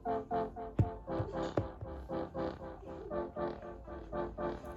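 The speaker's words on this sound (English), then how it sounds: "It's a trumpet. It's a horn actually." Horn melody built in BandLab playing short, evenly spaced notes in a steady rhythm with a couple of sharp clicks, fairly quiet and heard alone.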